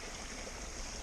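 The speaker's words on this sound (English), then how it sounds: "is about the 12th stream like this I've crossed today" A small stream on the Appalachian Trail flows with a steady, close, even rush of water, alone and without talk.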